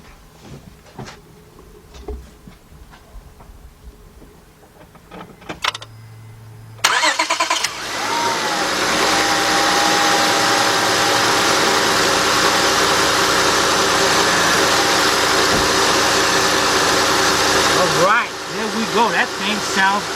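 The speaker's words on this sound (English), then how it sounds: "let's get our key and start this up and check to make sure everything is good." A 2003 Honda Accord with the 3.0 engine and a fixed serpentine belt and idler pulley cranks briefly and catches after some quiet handling noises, then settles into a steady, loud, close idle that runs for about ten seconds before dropping off.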